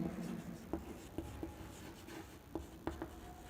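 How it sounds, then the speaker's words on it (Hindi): Chalk or marker writes on a classroom board in short taps and strokes, a handful of sharp little ticks and scrapes spread unevenly over quiet room tone, with no one speaking. "इंग्लिश में लिखेंगे हम"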